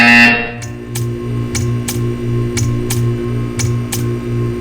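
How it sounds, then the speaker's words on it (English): Buzzer from the video game Portal, sounded during a test in which the player stares at art: a short burst followed by a regular series of evenly spaced sharp pulses, loud and close, over a steady electronic drone. "You will hear a buzzer. When you hear the buzzer, stare at the art."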